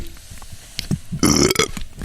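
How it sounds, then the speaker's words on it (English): A single loud, close belch rumbles for about a quarter second, set against quiet background noise. "Belch it for you too as well."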